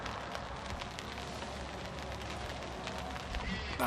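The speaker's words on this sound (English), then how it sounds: "Don't know if you can hear the rain pitter-pattering on the bivvy." Rain patters steadily on the fabric of a fishing bivvy at a carp syndicate lake, a dense, even hiss of drops with a few louder taps, continuous and close throughout.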